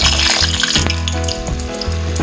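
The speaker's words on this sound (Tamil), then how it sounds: "இப்போ வாங்க நம்ம இதை பொரித்து எடுத்துடலாம்" Double-coated popcorn chicken pieces fry in oil in a pan over medium heat, a steady loud sizzle with a few soft thuds and stirs breaking through the bubbling.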